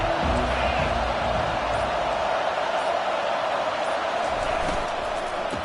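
A large football stadium crowd at an Oregon game roars and cheers continuously, a loud, dense wall of sustained noise with no pauses.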